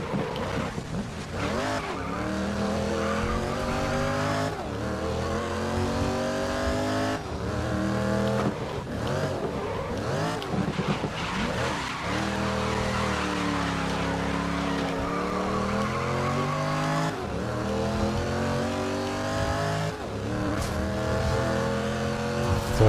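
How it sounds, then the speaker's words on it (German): A touring race car in the racing game GRID, Super Tourers City Cup, on a slippery track. The engine roars loud and close without a break, its pitch climbing and dropping as it accelerates and brakes, with no talk. "Gas geben, bremsen."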